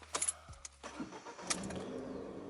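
A Ford Fiesta ST engine starts close by: a brief starter whir and click, then the engine catches and settles into a steady idle hum.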